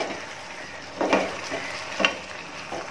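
A spoon stirs eggs into a green peas masala gravy in a pan, giving a soft sizzle with a few scraping strokes spaced about half a second apart, close by and with no talk.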